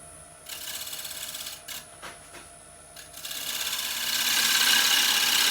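Fine wood shavings being cut by a push cut on a woodturning lathe, a soft steady scraping hiss that swells louder and brighter toward the end, with a few brief taps and pauses early on.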